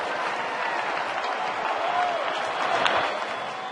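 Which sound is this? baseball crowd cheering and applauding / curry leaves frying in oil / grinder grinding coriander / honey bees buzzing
baseball crowd cheering and applauding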